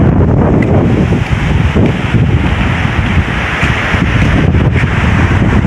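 A swollen river running high after a typhoon, heard as a loud, unbroken roar of rushing water mixed with heavy wind buffeting the microphone, steady throughout with no voices.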